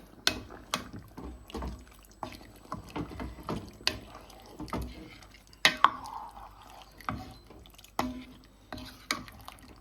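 Prawns being turned in a pan for prawn curry, a series of close scraping, clattering stir strokes at an uneven rhythm over a faint low background.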